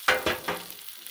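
Ground turkey sizzles and browns on a flat griddle, with three quick bursts of hissing and scraping close up that fade into a softer, steady sizzle.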